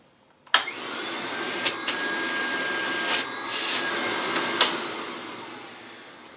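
A 40-pound working vacuum cleaner strapped into a homemade backpack switches on abruptly and runs with a loud, steady whooshing roar, broken by a few sharp clicks and surges, with no voices.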